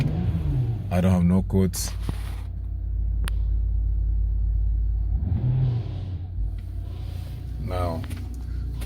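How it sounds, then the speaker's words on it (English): A 2006 BMW 325xi E90 with an N52 engine cranks briefly and settles into a low, steady idle rumble, heard under a voice talking intermittently. "I will start the car now."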